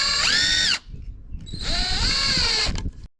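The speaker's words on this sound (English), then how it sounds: "One thing I always like to do is start my screws." A cordless power drill whines up twice to drive screws into wooden boards for a generator rain shelter, a long steady run, a short pause, then a second run with ratcheting clicks, loud and close without talk.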